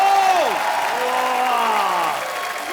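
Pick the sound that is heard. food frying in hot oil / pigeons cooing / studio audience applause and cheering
studio audience applause and cheering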